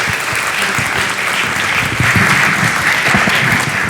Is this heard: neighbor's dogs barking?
no